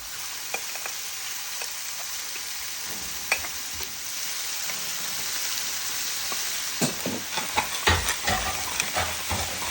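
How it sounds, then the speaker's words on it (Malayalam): Carrots, asparagus and broccoli hiss and crackle as they drop into a hot pan of mushrooms, a steady close sizzle with scattered sharper pops and stirring clatter growing busier toward the end. "നമുക്ക് ഈ വെജിറ്റബിൾസ് എല്ലാം ആ ക്യാരറ്റും ഈ അസ്പ്രാഗസും അതുപോലെ തന്നെ ബ്രോക്കളി എല്ലാം കൂടെ നമുക്ക് ഈ മഷ്റൂമിൻ്റെ ആ പാനിലേക്ക് ആഡ് ചെയ്ത് കൊടുക്കാം"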